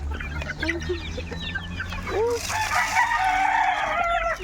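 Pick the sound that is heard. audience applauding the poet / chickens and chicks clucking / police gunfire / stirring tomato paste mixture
chickens and chicks clucking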